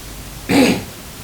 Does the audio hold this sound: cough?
yes